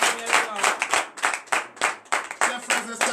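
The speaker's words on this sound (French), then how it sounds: "Et que je demande à chacun à applaudir." A church congregation at morning prayer bursts into lively, rhythmic applause, many hands clapping in quick bursts close by, with a voice rising over the clapping.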